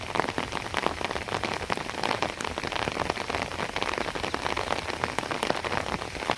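Steady rain falls across a peanut field where sprinklers keep running, a dense, even patter of drops on leaves and soil filling the whole stretch without pause.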